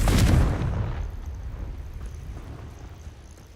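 A Confringo fire spell bursts in Hogwarts Legacy, one loud booming explosion up front that rolls off into a fading rumble over about three seconds.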